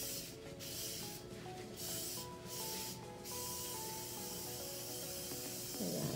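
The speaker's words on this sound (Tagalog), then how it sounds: "Ayan, kailangan ma-sprayan lahat at baka mamaya meron na dalang ano." Disinfectant spray hissing steadily over luggage at an arrival, a continuous close aerosol or sprayer hiss with a few short breaks and faint tonal hum underneath, no talking.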